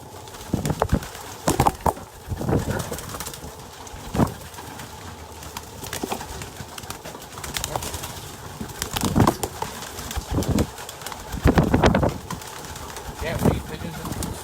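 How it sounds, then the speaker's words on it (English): Pigeons being hand-fed in a hallway coo and flap their wings in bursts, with sharp fluttering flurries recurring every second or two over a murmur of background noise while a person talks intermittently. "Can't feed pigeons and geese."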